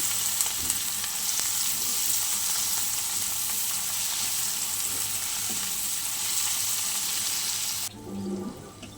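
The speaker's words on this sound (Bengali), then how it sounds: "দিয়ে দেবো হলুদ গুঁড়ো। এবার চলো সুন্দর করে ভেজে নেব।" Oil sizzles loudly and steadily in a pan as an egg bhujia base fries with turmeric powder, a dense continuous hiss with a few stirring scrapes before it suddenly drops away near the end.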